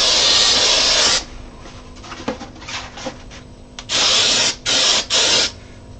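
Short hissing bursts from a spray can aimed at a glued joint in a full-size Star Wars Droideka build: one long spray, a quiet gap with small clicks and handling noises, then three quick bursts.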